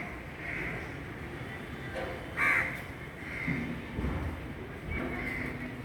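Crows caw while rebuilding their nest, a few harsh calls spaced out over several seconds against a murmuring outdoor background.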